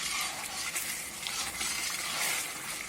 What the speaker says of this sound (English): Now again we will mix together for the enhancement of the taste.